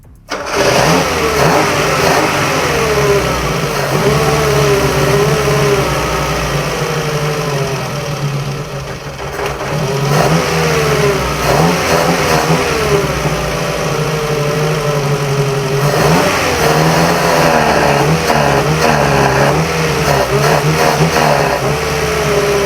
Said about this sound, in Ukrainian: Бачите, заводиться.